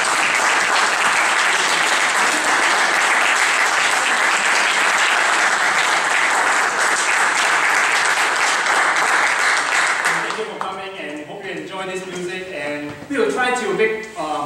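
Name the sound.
audience applauding after Soldier's Tale performance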